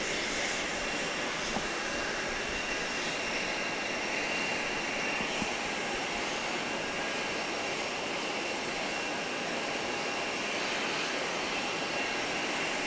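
A United airliner at Grand Cayman airport gives off a steady, loud jet engine roar and whine that stays even throughout, with no voices.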